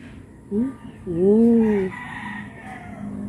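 Hen on a farm giving a short clucking call followed by a longer drawn-out squawk, close and clear, with quiet background noise around it.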